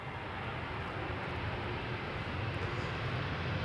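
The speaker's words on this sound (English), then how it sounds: "This is Play A320neo, arriving from Reykjavik." A Play Airbus A320neo jetliner, about a year old, arriving on approach at Schiphol's Polderbaan runway, heard as a steady broadband engine roar that holds constant and fairly loud throughout, with no voices.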